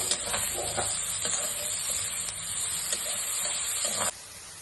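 Onions stir-fried in hot homemade ghee in a kadhai, a continuous close sizzle and hiss with occasional scraping stirs, ending with a brief dip in intensity.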